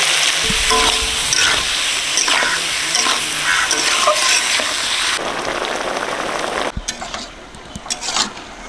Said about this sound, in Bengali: বৌদি ওদিকে চিংড়ি মাছটা ভাজছে